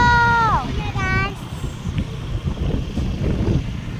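Summer wind blows across a hillside ridge near Suntakhan, rumbling and buffeting the microphone steadily throughout, with a short high rising-and-falling tone near the start.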